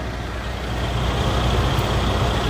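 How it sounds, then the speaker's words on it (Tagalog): Heavy traffic with trucks inches past road construction in Lupi, Camarines Sur, in the evening: a loud, continuous low engine rumble and road noise, close by and unbroken, with no talk. "matinding traffic pa rin po ang mga kanasan nyo gawa ng ginagawang kalsada dito sa bayan ng Lupi"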